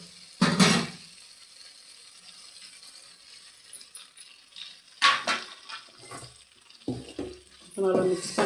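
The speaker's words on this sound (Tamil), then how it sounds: "இப்போ நல்லா மிக்ஸ் பண்ணிடலாம். நல்லா வதங்கட்டும்." Stirring and sautéing chapathi noodles in a pan, with a loud scrape of the utensil at the start, a quiet low sizzle, then several clattering stirs and scrapes later, with a voice talking in between.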